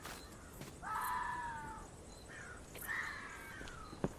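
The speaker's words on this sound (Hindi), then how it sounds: "ये खतरनाक कौवा भागता हुआ," Two drawn-out, harsh crow caws a second or so apart, moderately close, with faint background noise between them.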